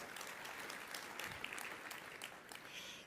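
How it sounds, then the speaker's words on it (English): An audience claps in a faint, distant round of applause that holds at an even patter for a few seconds. "You can applaud for that, yeah."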